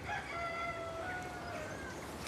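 A rooster on a small farm crows faintly in the distance, a thin drawn-out call over steady outdoor background noise, with no talk.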